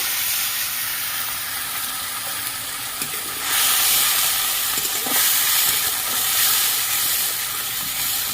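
Water poured into a hot pan of soybean curry being sautéed with spices erupts in a loud hissing burst of steam partway through, after a quieter, steadier sizzle, with no one speaking.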